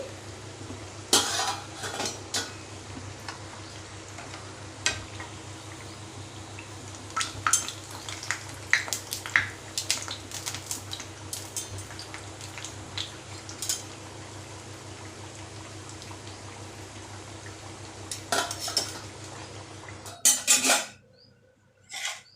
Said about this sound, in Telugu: ఇలా బాగా ఎర్రగా ఫ్రై చేసుకొని దాన్ని ఇలా గెంటితో ఒత్తేసుకుంటే ఎక్స్ట్రా ఉన్న ఆయిల్ అంతా వచ్చేసిద్ది